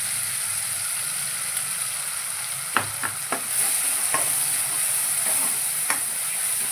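Fresh wet-coconut paste fries in a pan for a spicy kharda soya dish: a steady loud sizzle with scattered scraping stir clicks from the spoon.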